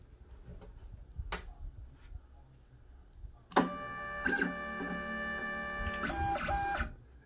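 A vinyl cutter machine powers up and runs, cutting a design for a drip-style mask, with a sharp start, steady mechanical whirring and stepping tones, and shifting motor pitches, after a quiet stretch of faint handling clicks.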